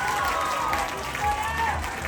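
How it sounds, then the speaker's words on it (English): Steady applause from a pageant night audience in Auckland, a dense wash of clapping filling the whole moment, with faint voices mixed in. "Round of applause, everyone."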